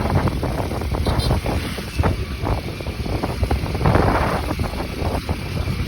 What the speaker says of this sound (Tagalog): Malakas pa yung hangin niya sa gilid.